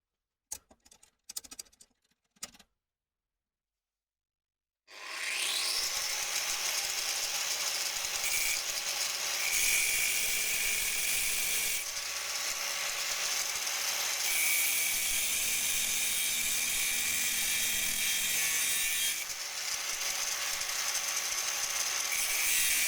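A threaded metal rod is cut with a power tool: a few short taps, a brief quiet, then a long, loud, steady grinding and rasping that holds its pitch, with small shifts, for nearly twenty seconds.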